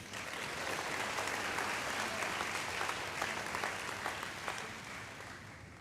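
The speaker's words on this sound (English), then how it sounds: "give them one more round of applause" Audience applause at a high school athletic awards ceremony, a dense, steady wash of clapping from a large crowd that holds for several seconds before easing slightly at the end.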